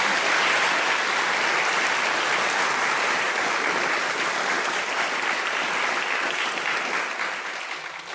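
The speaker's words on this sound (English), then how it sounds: "Can we all give them a round of applause for coming?" An audience at a social prescribing show applauds the speakers in a sustained, dense wash of clapping that stays loud and steady before tapering slightly at the end.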